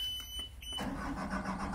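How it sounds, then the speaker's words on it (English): A canal boat's engine on the Montgomery Canal starts up after warning beeps, cranking and catching into a steady mid-pitched running rumble close by. "let's get this engine going,"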